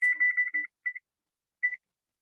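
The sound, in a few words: oven timer beeping as it is set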